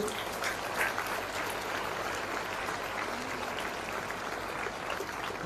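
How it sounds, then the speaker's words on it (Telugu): Sustained crowd clapping fills the room as an audience cheers a girl, an even, continuous patter of many hands with no clear breaks, heard at moderate distance. "గట్టిగా మీరందరూ గట్టే క్లాప్స్ కొట్టాల్సింది"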